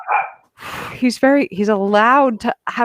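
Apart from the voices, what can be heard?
small dog barking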